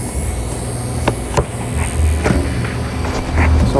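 A repaired hobby RC car's electric motor runs close by with a steady, loud, rushing whine, broken by a few sharp clicks and rattles from the chassis, with no talking.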